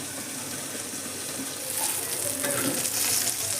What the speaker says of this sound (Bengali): এইভাবে ঢেকে ভালো করে আবার আমি ফ্রাই করে নেব।